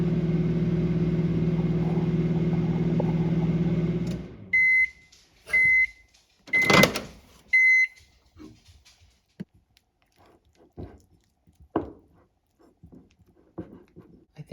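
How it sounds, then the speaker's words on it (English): A microwave oven melting chocolate hums steadily for about four seconds, then stops with a series of beeps and a door clunk, followed by quiet scraping and handling noises. "I'm going to put these in the microwave for 30-second bursts"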